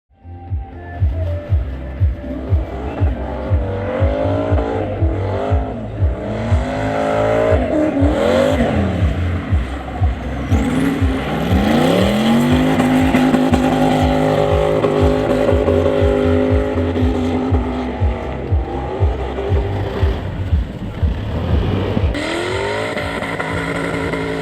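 A drift car on a partly wet track at Dzika Góra, its engine loud and close, revving hard and constantly rising and falling through long sustained bursts of throttle.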